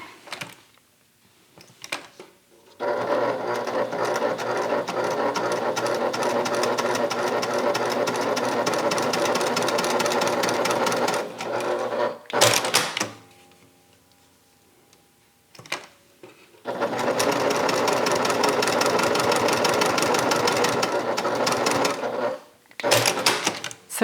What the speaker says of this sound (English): Now I'm going to top stitch down each long edge.